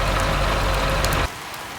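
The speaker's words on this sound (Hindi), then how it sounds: "आज तो बारिश रुकने का नाम ही नहीं ले रही" Heavy rain pouring down in a village, a loud dense roar of water hitting surfaces that abruptly drops to a softer hiss near the end.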